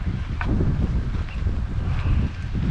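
Gusty wind blowing outdoors on a cold day, a steady close rumbling roar buffeting the microphone for the whole stretch, with no voices.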